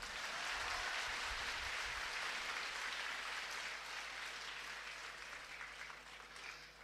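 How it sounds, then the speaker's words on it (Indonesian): Audience applause at a religious gathering for students of an Islamic boarding school fills the space as a steady wash of clapping, fairly faint and distant, gradually thinning toward the end with no talking over it. "Tepuk tangan untuk kita semua."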